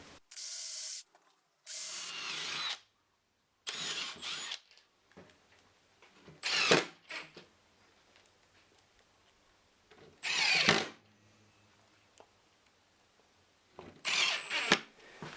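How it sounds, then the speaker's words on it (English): A power drill driving screws to fix an inner cupboard frame to an outer frame during a van conversion, several loud close bursts of whirring with pauses between them. "I'm now just going to screw the inner frame to the outer frame from the back."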